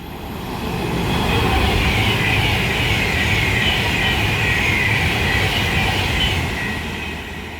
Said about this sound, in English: pass through now is going to be another Avanti West Coast Class 390 Pendolino